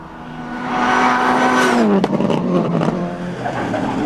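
A Mitsubishi Lancer Evo 6 rally car with a gearbox jamming in gear races a tarmac stage at the 2002 Jim Clark Rally. Its engine howls loud and close, rising in pitch, then an abrupt gear change brings crackles and a lower drone.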